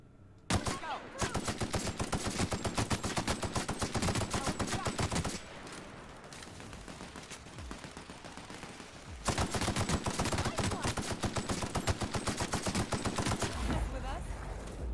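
Rapid automatic gunfire from a gun in the video game The Outer Worlds, two long sustained bursts of fast, evenly spaced shots separated by a quieter pause, loud and close.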